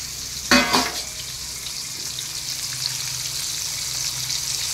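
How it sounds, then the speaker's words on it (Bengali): Four pomfret fish, about 400 grams, dropped into hot oil in a pan: a loud burst of spattering on contact, then a steady, close sizzle that holds to the end. "প্যান বসিয়ে তেল বসিয়ে দিয়েছি, ওখানে মাছগুলিকে দিয়ে দিচ্ছি।"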